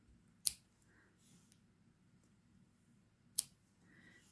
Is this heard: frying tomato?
no